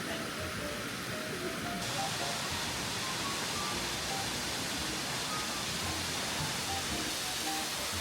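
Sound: Minoo waterfall near Osaka

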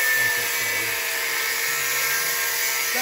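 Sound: cutoff wheel cutting metal on a Jeep axle

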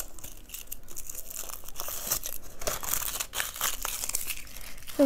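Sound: tearing open the wrapper of a surprise toy egg

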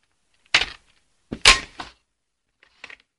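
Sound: pulling the magazine out of a Bison airsoft rifle

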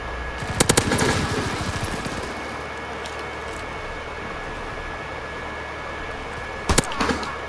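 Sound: gun firing in a video game

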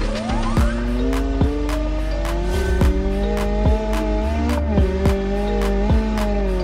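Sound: rally car engine in video game BeamNG.drive

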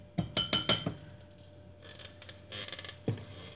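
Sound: stirring pancake batter with food coloring in bowl

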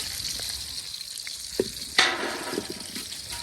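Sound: fish frying in a pan

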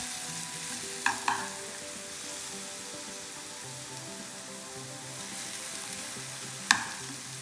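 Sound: frying with sugar in a pan

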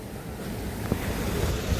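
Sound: Velladuru canal water flowing under a bridge

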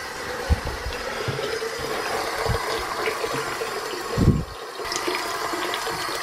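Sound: hot water running into a sink

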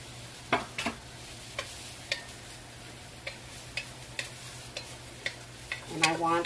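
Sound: chopped onions frying in chicken grease

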